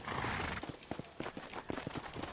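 Horse hooves clip-clop in the video game Red Dead Redemption, a string of close, sharp, uneven hoof strikes following a short noisy burst, with a possible faint whinny mixed in.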